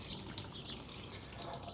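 Coolant drains from an Onan generator's radiator into a drip pan, a steady, soft trickling splash of liquid that runs continuously and quietly, with no talking.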